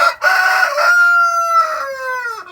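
A Barbezieux rooster crows loudly and close by, one long drawn-out call that rises and then trails off, with no other sounds around it.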